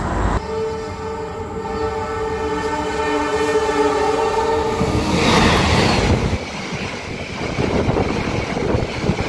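The Probowangi passenger train rumbles along loudly between Surabaya and Jember, its horn sounding a long harmonic blast at first, then giving way to rushing wheel and track noise.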